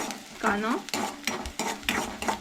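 Finely chopped onion fries in a pan for a Goan egg curry with coconut gravy. Up close, a utensil stirs and scrapes in uneven strokes over a soft background sizzle.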